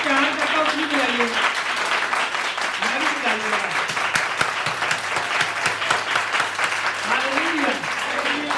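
A church congregation keeps up sustained, dense clapping for several seconds while a preacher talks and sings over it at intervals.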